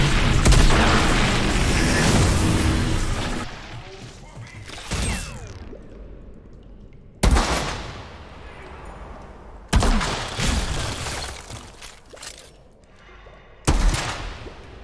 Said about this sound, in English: Still getting used to this gun.